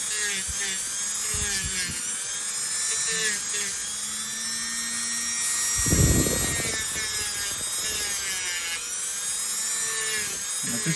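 High, whining hum of a Dremel rotary tool running steadily close up, its pitch wavering as it works, with brief duller knocks and scraping underneath.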